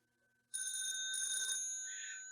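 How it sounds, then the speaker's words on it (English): A telephone bell in the village of Greendale rings in one bright, continuous burst after a moment of quiet, fairly close and clear. "the phones were ringing again all over Greendale."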